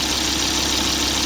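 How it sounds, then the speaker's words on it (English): A 2001 Volvo V70 XC engine idles after an engine mount replacement, a loud, steady, even drone with no talk. "engine's running nicely, everything's purring well, purring smoothly"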